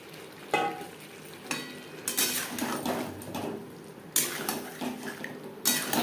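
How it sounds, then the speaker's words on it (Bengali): Fried potatoes stirred into a spiced masala in a pan over medium flame for Bengali niramish alur dum, with a spoon scraping and clanking against the pan in bursts over a soft sizzle. "মশলার সাথে আলু বেশ ভালো করে মিক্সড করে দেবো"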